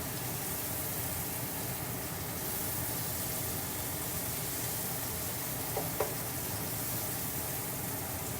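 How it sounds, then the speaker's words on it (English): Shrimp frying in a hot pan while being stirred, a steady loud sizzle that holds for the whole stretch with faint scrapes of the utensil near the end. "just keep the shrimp moving so that they start cooking and they turn pink"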